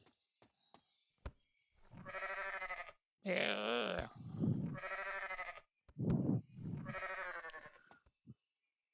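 Sheep bleat repeatedly in Ranch Farm and Store Simulator, several loud wavering cries in a row separated by short pauses, with a brief spoken word near the start.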